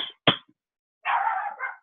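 A dog near a treadmill gives a short high yip, then a sharp single bark, and after a pause a drawn-out whining whimper, all close and without talk.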